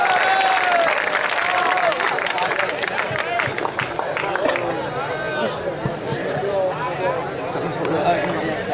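An audience at a mushaira poetry gathering claps steadily, dense close applause mixed with crowd chatter and a voice speaking over it for the whole stretch.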